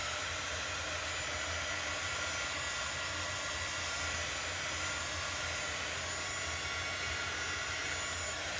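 A hair dryer blowing to dry chalk paste on a craft project, giving one steady loud whooshing roar held without a break for the whole stretch, close to the listener.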